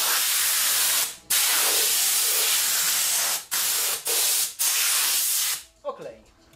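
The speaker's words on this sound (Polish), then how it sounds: "Właśnie, sprężone powietrze wezmę." Compressed air blasting from a nozzle during car detailing, several long loud hissing bursts separated by short pauses, ending in faint handling noises.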